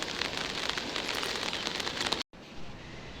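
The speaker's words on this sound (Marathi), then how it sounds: "पाऊस पण बाहेर खूप पडता" Dense, steady hiss of heavy rain pattering on a surface, close and loud, with a brief cut to silence before it resumes slightly softer.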